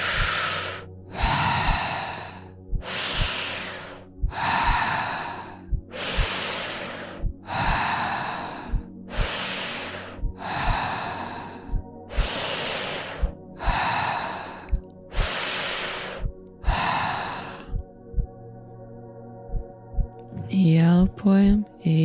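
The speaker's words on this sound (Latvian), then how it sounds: "Ieelpa, izelpa pilnīgi, pilna vēdera, pilns plaušas un izelpa bez pauzītēm" Deep rhythmic Wim Hof method breathing, with about a dozen strong, evenly paced breath cycles close to the mic, each a long loud rush of air, followed by a voice speaking briefly at the end.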